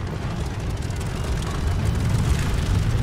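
A propeller airplane engine in the Vanguard flight video game gives a dense, continuous roar that grows slightly louder toward the end.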